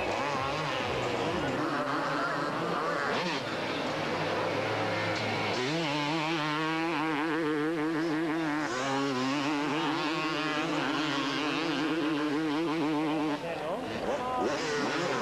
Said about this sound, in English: Two-stroke 250cc engines working hard on this excellent course in Spain.